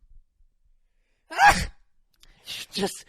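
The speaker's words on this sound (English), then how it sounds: "you just sneezed right into the mic" A sneeze into a microphone on a talk-show podcast, one sharp close burst preceded by a breathy intake, followed by brief voice sounds.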